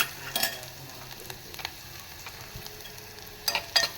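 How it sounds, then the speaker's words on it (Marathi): Coriander leaves dropped into hot oil for a tempering before onions go in, giving soft sizzling with a few sharp crackles and spoon scrapes, quiet and sparse, with no talking. "आता मी थोडीशी त्यात फोडणी कोथिंबीर पण टाकते."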